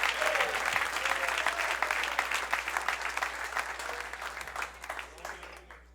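Church congregation clapping for the Lord during a Spanish-language worship service, a dense, steady wash of applause from many hands that carries on throughout and thins slightly toward the end.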